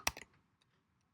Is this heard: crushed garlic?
no